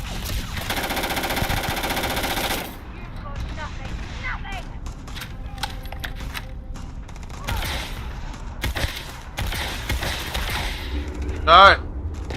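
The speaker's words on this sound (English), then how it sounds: "Oh, he's shooting from here." Enemy gunfire in the video game Starfield breaks out in a dense burst of shots at the start, then sparser thumps and shots follow while a voice talks over the game sounds.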